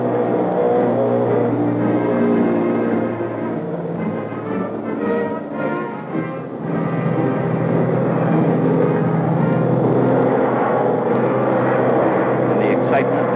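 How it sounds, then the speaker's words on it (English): Bombers roar one after another down the swaying deck of an aircraft carrier during takeoff, a loud, sustained engine drone with rising and falling swells, mixed with other busy background sound. "Crewmen cheered as one plane after another screamed down the swaying runway."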